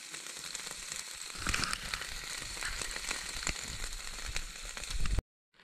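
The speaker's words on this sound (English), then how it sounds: "Definitely sizzling." Chicken tikka masala sizzling and frying on a camping grill on a kayaking trip by the Red Deer River, a steady crackling hiss with scattered pops that ends abruptly.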